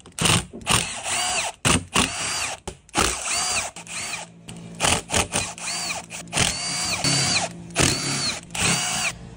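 A power tool whirs in repeated short bursts while unbolting the crankcase of a Yamaha YZ250F engine during a rebuild, each spin-up and stop sharp and close with brief pauses between, and no one talking.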